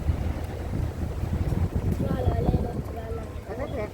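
A luxury yacht cruising off Dubai gives a steady rumble of engine and water, with wind buffeting the microphone throughout and faint voices now and then.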